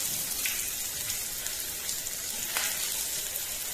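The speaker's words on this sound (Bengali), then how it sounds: "কিছুক্ষণ ফ্রাই করে তারপর এর মধ্যে দিয়ে দেব কেটে রাখা পেঁয়াজ।" Whole garam masala and bay leaves frying in hot oil before chopped onions go in, giving a steady, even hiss and crackle of sizzling throughout, with no talking.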